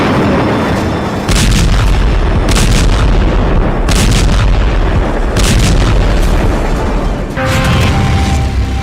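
Israeli bombing in Rafah produces a series of loud, heavy blasts in quick succession, roughly every second or so. Deep rumbling booms and ragged bursts overlap without pause.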